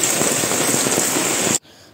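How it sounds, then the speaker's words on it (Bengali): Heavy rain pours outside in a loud, dense, steady hiss that cuts off abruptly near the end, leaving quiet. "বাইরে বৃষ্টি হয়ে যাচ্ছে"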